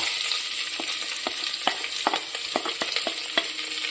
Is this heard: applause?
no